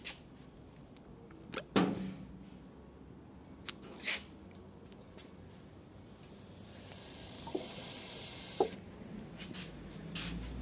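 A steady hissing rush of water from a hose through a funnel builds and holds for a few seconds, with scattered clicks and knocks before and after.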